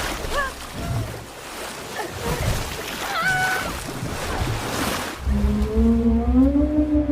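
A very large whale calls in the open ocean in a film scene: loud, drawn-out tonal moans that rise and waver, over a constant wash of sea water and surf.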